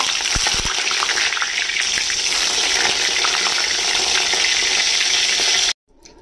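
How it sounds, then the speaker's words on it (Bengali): Long eggplant pieces fry in hot mustard oil in a wok, a loud steady sizzle that runs unbroken before cutting off abruptly near the end. "এইগুলো এবারে হালকা করে ফ্রাই করে নেব।"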